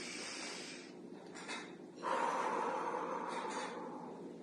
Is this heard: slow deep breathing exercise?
yes